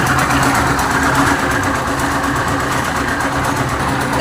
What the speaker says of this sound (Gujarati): સામે કન્સ્ટ્રક્શનનું કામ ચાલુ છે એટલે મજૂરો લોકો કામે લાગી ગયા છે અને અવાજ આવી રહ્યો છે